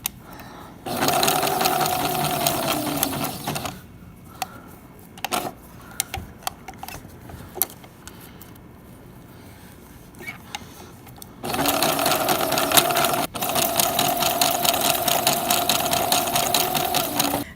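A sewing machine stitches a coiled hemp rope basket in two long loud bursts of rapid mechanical chatter, separated by a quieter stretch of handling clicks and knocks while the coil is turned.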